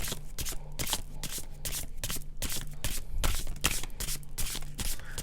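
Tarot cards are shuffled and pulled from a deck in a steady, close flutter of rapid papery riffles and slides, continuous and fairly loud, with no talking.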